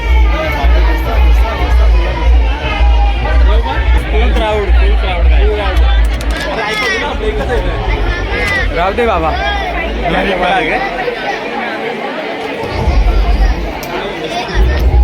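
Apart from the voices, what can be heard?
dense crowd chatter at the Ekvira temple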